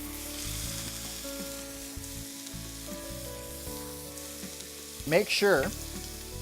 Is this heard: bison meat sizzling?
yes